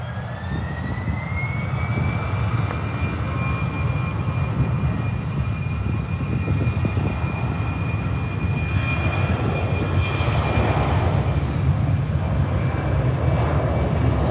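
Jet airliner rolling for takeoff at Birmingham airport, a loud sustained engine roar with a rising whine that holds steady throughout, heard from nearby with no talk.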